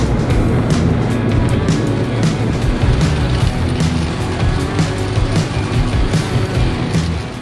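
A Snowdog Twin Pro twin-track tow vehicle with a single-cylinder Vanguard 400 engine drones close by, a loud, steady throbbing engine note with constant mechanical rumble and no talk.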